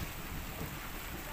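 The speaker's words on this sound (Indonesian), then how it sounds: "hujan turun, alhamdulillah ya" Steady rain falling at Stone Garden near Bandung, a continuous soft hiss of drops with no other sounds, fairly quiet and even throughout.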